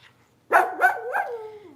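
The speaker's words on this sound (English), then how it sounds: "Stop barking at him." A dog barks in a quick run of about three sharp, close barks that trail off into a whiny drawn-out tail.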